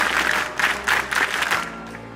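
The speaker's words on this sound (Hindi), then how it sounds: "मैं एक बार सभी से कहूंगा, आप स्काउट ताली बजाएंगे।" An audience at a school alumni meet doing a scout clap, loud bursts of clapping in a pulsing rhythm of several quick beats before fading.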